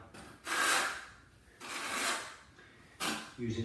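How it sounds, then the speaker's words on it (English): A trowel spreads tile adhesive across a floor while tiling a brick extension, making three separate rasping, scraping strokes with quiet pauses between them, close by and alone. "Get a little bit of adhesive on the floor, and then we spread it"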